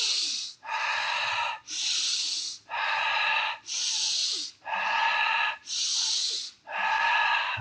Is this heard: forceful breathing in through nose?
yes